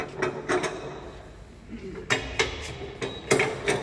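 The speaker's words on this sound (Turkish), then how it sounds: "Daha sonrasında bu koldaki ayakları açıyoruz." Outrigger legs on an Asimato EGTWY8 personnel lift are swung open, producing a series of close metallic clanks and knocks in short bursts, several sharp hits spaced irregularly.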